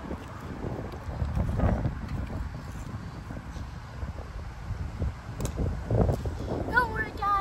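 Cold wind gusts steadily across an open outdoor site during a model rocket launch, a rough broadband rumble buffeting the microphone throughout, swelling louder in a few surges.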